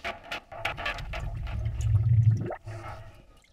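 Copper pipe coil pushed down into a water tank for a wood stove water heater, a gurgling, bubbling rush of water and escaping air that swells and then cuts off abruptly, close and fairly loud.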